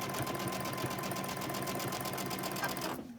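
A sewing machine stitches a fabric bowl cozy in a steady, continuous run of rapid close-up needle strokes, then stops abruptly at the end.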